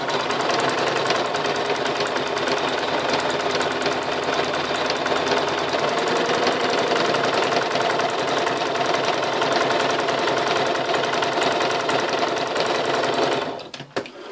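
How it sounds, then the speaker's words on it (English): A sewing machine stitches a seam with a 5/8 allowance, a loud, continuous rapid whirring chatter of the needle running steadily for many seconds before stopping abruptly near the end. "5/8 of allowance, and I'm going to sew."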